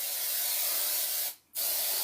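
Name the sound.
non-stick cooking spray being sprayed into a pan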